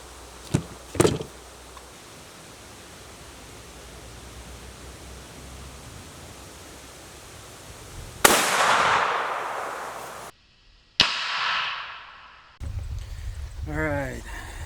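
A rifle fires a Remington Core-Lokt 150 grain round at army body armor, one sharp loud crack with a fading rumble after a long quiet stretch, followed by handling noises and a voice.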